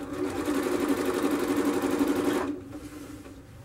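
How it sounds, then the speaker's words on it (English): A sewing machine stitches chair fabric in a rapid, even whir of needle strokes up close, then stops abruptly and leaves quiet room tone. "So I'm just going to line that up on the foot plate and start sewing."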